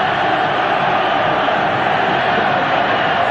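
Grêmio supporters roar wildly at Estádio Olímpico during a 1982 Brasileirão final against Flamengo, a dense, steady crowd din with no break throughout.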